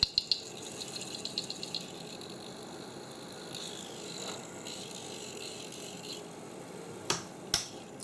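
A faulty cooling fan on a Creality CR-10S 3D printer whirs quietly with a rattling, ticking mechanical texture and a few sharp clicks, heard close and faint with no talking.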